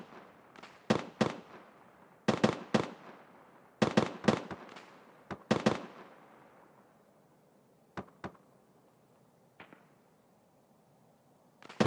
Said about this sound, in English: They're just shooting at the BTR.